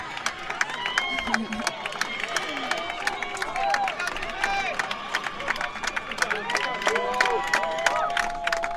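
Spectators at a high school state playoff baseball game keep up a steady roar of cheering, whistles and rhythmic clapping, loud and continuous, with voices shouting throughout.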